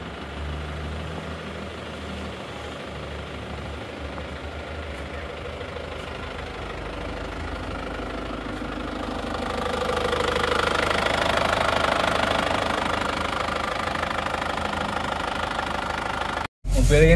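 A repaired car's engine idling, running with a steady low mechanical hum and light knocking, rising slightly partway through, with no talk over it.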